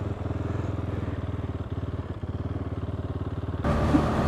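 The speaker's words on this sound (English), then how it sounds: "You can hear the bike coughing and carrying on." A KTM 390 Duke single-cylinder engine idles roughly and unevenly, coughing with a rapid pulsing thump up close, then briefly rises in pitch as the throttle is blipped near the end.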